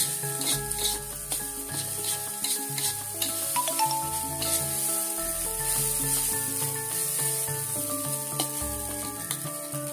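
Nasi goreng fried rice cooks in a pan with makeshift tools, giving a constant crackling sizzle with occasional stirring scrapes, heard beneath melodic background music.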